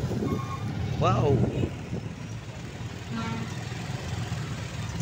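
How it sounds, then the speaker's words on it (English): A truck reverses and idles in a traditional vegetable market at Pasar Padang Luar, its beeping backup alarm sounding alongside a steady low engine rumble and busy market ambience, with a voice speaking briefly. "Can see the truck in front of me."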